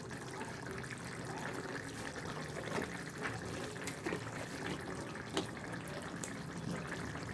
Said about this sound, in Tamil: இப்போ தான் ஓப்பன் பண்ணேன், கொதிச்சிட்டே இருக்குது பாருங்கள்.